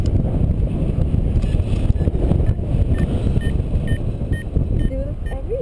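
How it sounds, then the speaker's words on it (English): A paraglider variometer emits short repeated electronic beeps while climbing, sitting faintly over strong wind rush and flight noise with no talking. "This beeping is a variometer."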